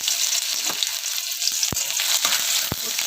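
Garlic cloves and chopped ginger frying in hot oil for egg chow mein, a loud, steady sizzle with a few sharp clinks of a utensil against the pan.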